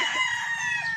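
A broodstag gamefowl of Boston Millionaire LDT line crows close and loud, one sustained bright call filling the whole moment.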